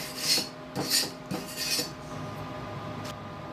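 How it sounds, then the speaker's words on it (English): A chipping hammer knocks burnt flux off a flux-core weld bead in three short, close scraping strikes, followed by a few faint ticks. "I have to use a chipping hammer for this, guys, because it's got the burnt flux on it"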